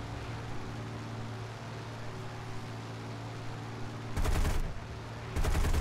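Two short bursts of rapid machine gun fire from AI planes in the War Thunder video game, loud rattling volleys cutting over a steady engine drone.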